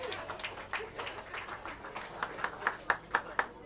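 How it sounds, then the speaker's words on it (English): A small audience at a live quartet jazz gig claps for a singer. The applause is scattered and fairly faint, with a few sharper, evenly spaced claps toward the end and a voice speaking over it. "Another round of applause for her."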